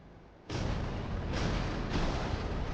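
A sudden heavy boom breaks the quiet as a World War II submarine's torpedoes strike a tanker, followed by sustained rumbling roar with a couple more dull blasts rolling through it.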